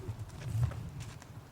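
A young horse walks in a training circle, its hooves giving a few soft, muffled clip-clop beats at close range over quiet ground.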